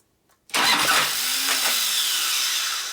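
Starter cranking on a 1990 Harley-Davidson FXR with an 80ci Evo engine, kicking in abruptly after a brief silence and then grinding loudly and steadily up close for the rest of the clip.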